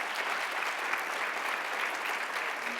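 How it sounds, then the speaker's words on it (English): Steady, even applause from a symposium luncheon audience for a panel of speakers, a thick wash of many hands clapping that holds at a constant level for about three seconds, with no voices. "can we have a round of applause for all of our panelists"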